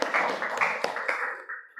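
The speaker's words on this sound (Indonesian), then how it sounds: "Tepuk tangan untuk kelompok 3." A classroom of students claps briskly for a presenting group, a dense close patter of hand claps that tapers off toward the end.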